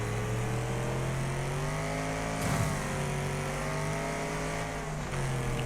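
Race car engines in the Wreckfest racing game, a continuous loud droning roar of several cars with rising and falling revs as they accelerate through the corners, and a brief impact-like burst midway.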